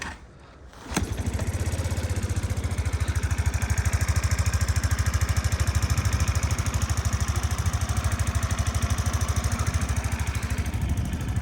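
A Suzuki Address V125 S scooter engine starts and settles into a steady, rapid idle, putting close and even for about ten seconds with a slight mechanical clatter.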